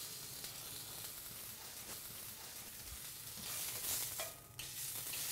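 Steak searing in oil in a smoking hot frying pan, a continuous close sizzle and hiss with bursts of crackling spatter and a brief lull near the end.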